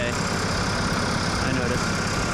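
A stump grinder's engine runs at a constant, loud droning pitch, close by and unbroken for the short stretch.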